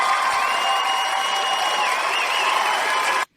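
An audience at a sobriety gathering cheers and whoops to mark a member's 26 years clean and sober, a dense, steady burst of crowd noise that holds for about three seconds and then cuts off abruptly.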